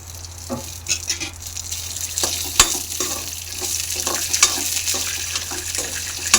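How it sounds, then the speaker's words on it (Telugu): Peanuts and green chillies fry in hot oil, a steady close sizzle broken by the clatter of stirring and an occasional sharp knock of a spoon against the pan. "ఆయిల్ హీట్ అయ్యాక పల్లీలు, పచ్చిమిర్చి వేసి వేయించుకోవాలి"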